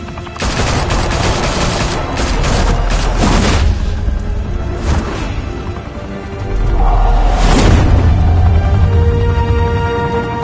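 Loud bursts of gunfire and heavy blasts rattle through a Batman video game battle at a high-rise mafia hangout, with rapid volleys early, a booming hit midway and another thunderous explosion near the end.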